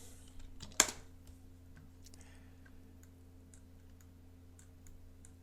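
Quiet computer keyboard typing, a sparse run of soft clicks and taps after one louder sharp click near the start, faint against a low electrical hum.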